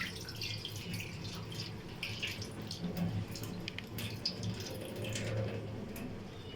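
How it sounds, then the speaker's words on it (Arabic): Water drains from soaked wheat through a strainer over a kitchen sink, a continuous close trickle and patter of dripping with faint clatter. "هنزل كده اصفيه."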